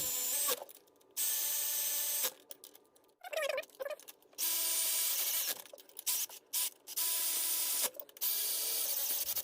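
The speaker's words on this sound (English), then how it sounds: "So give about a couple spin each of the bolts. We'll bottom it out, and then we'll torque it to 22 foot-pounds" Cylinder head bolts are spun in on a GMC Acadia 3.6L engine, with repeated loud bursts of ratchet or power-tool whirring broken by short pauses and light clicks.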